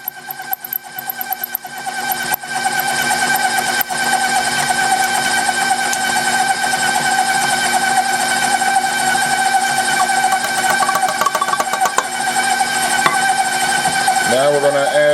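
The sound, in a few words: electric mixer at medium speed mixing cake batter with sugar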